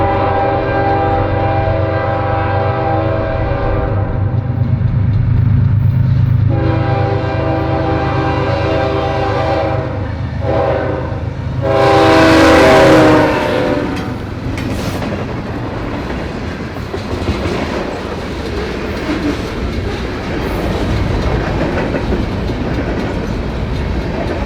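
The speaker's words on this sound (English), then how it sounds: "One of Canadian National's ES44DCs had wound up on the previous local the night before, and is now seen leading the train back to Mount Pulaski." A Canadian National ES44DC locomotive leads a local freight train, its deep diesel rumble building as it nears, a loud horn blast sounding, then rolling wagons clatter steadily past up close.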